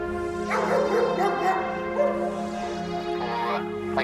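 A police dog barks and yips repeatedly near a suspect car at an urban crime scene, the barks fairly close and mixed with a steady tonal hum and some background voices.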